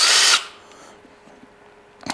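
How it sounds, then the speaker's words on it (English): Truzy handheld battery chainsaw giving a brief loud burst of running noise, then cutting off and leaving a quiet background hum with a small rattle at the end. "This is a handheld saw."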